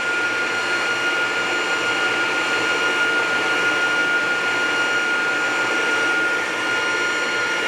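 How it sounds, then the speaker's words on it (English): An automatic dovetail machine runs in a woodworking shop, its spindle and feed mechanism producing a steady, loud, continuous whine with constant tonal hums and no pauses or talk. "Then I'm gonna start up the part that actually moves the machine in and out."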